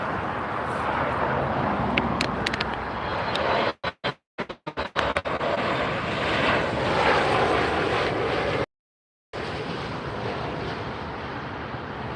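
An Air Canada airliner at LAX gives a loud, continuous engine rush, broken by a few brief dropouts and one short gap in the sound.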